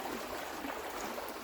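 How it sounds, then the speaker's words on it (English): Fast-flowing water rushes nearby with light splashing, a dense, steady broadband hiss that continues without pause and with no voices over it. "The water is flowing quite fast next to me here. In fact, making a little bit of splashing."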